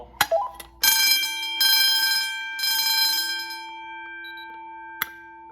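A school fire alarm bell on a 2007 Notifier system rings loudly in sustained bursts during a test, with a short tap beforehand and a single sharp strike near the end, no talking.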